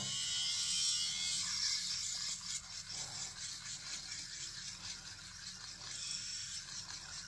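A Flawless rotary electric shaver runs over the mustache area, giving a continuous close buzzing hum with a scratchy rasping texture that rises and dips slightly as it moves across stubble.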